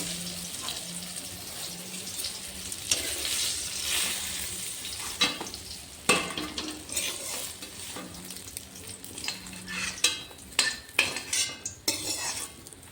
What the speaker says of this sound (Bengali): লাল লাল করে ভেজে আমি তুলে নিয়ে নিলাম